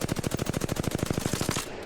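Rapid burst of automatic gunfire from a light-ammo weapon in the video game Apex Legends, about twenty evenly spaced shots in under two seconds, loud and close, then cutting off.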